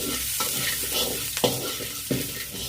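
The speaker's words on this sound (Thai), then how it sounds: "ผัดจนหอมครับ" Close-up sizzling of minced garlic stir-frying in a hot pan, with a few sharp scraping stir strokes over the steady frying.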